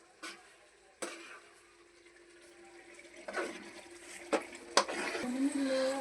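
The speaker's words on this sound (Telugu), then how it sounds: "ఇప్పుడు కారం వేసినాం కాబట్టి కలుపుకుంటున్నాం." Chicken is stirred with chili powder in a pan, giving soft scraping and wet sizzling with a few sharp utensil knocks against the pan, growing busier toward the end; a faint voice can be heard.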